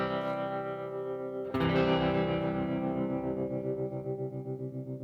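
An electric guitar chord runs through a Digitech TR-7 stereo modulation pedal in bias mode, playing in mono. A sustained, shimmering tone is restruck partway through, then rings out with a gently pulsing wobble and fades.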